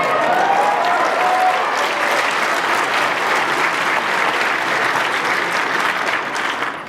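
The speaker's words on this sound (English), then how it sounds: "Get ready to clap." Sustained audience applause from a large crowd at a game-studio presentation, a dense wash of clapping that stays steady and loud throughout, tapering slightly at the very end.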